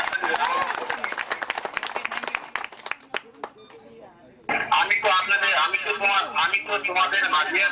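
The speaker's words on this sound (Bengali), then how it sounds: "সবাইকে হাততালি দেবেন" Audience clapping at a holud ceremony, a burst of rapid hand claps that thins out, followed by loud amplified talk and background chatter.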